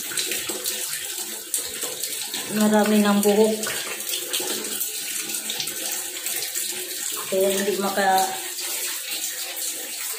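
Water runs steadily in a bathroom drain clogged with hair, a constant rushing wash lasting throughout, with a person speaking briefly over it twice.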